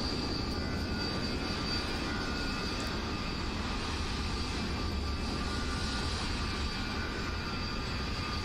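Steady jet engine drone of a HondaJet in a flight simulator, a continuous broadband roar with a high whine holding evenly throughout, no speech.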